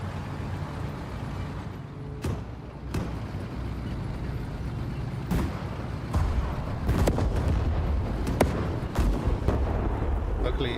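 Artillery fire in the Sudden Strike 5 war strategy game, with repeated booming blasts scattered over a steady rumbling battlefield bed, some near and sharp, others duller and farther off.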